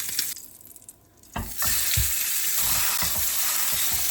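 Pork chop searing loudly in a cast iron pan, a steady hissing sizzle that swells after a brief quieter moment, with soft thumps as the meat is pressed down.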